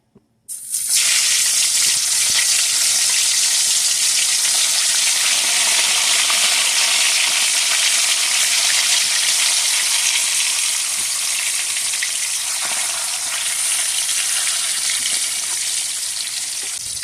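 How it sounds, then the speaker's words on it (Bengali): Silver carp pieces frying in hot oil, a dense, loud, continuous hiss and crackle close by that starts suddenly and holds steady throughout without any voices. "এবার আমি সিলভার কাপ মাছগুলো ভেজে নেব"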